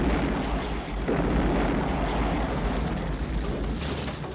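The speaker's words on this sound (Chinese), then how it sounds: "这架轰炸机突然爆炸" A damaged World War II B-17 bomber explodes on the airfield just after landing, a loud, sustained roaring blast that fills the sound and slowly eases off at the end.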